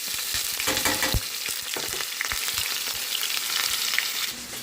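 Cumin seeds, mustard seeds and plenty of onions frying in hot oil in a pan for spinach curry, a steady close crackling sizzle with sharp spatters and pops, no talking.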